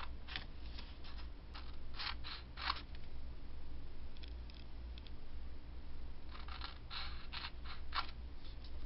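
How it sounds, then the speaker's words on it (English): Scissors snip through paper card in repeated quick bursts, cutting out V shapes at the centre of each side for a pinwheel card, crisp close clips grouped in clusters with short quiet gaps between. "You're going to want to cut those 4 V's out."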